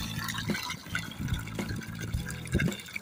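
Water flows through the middle of a rice paddy, giving a continuous close gurgling and splashing with small irregular surges.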